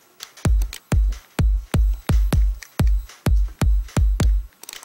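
Electronic kick drum sample from the Vengeance library, played in FL Studio: about ten punchy, booming low kicks at a steady tempo, each decaying quickly, heard alone.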